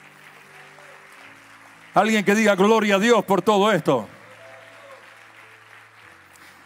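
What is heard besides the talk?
congregation applauding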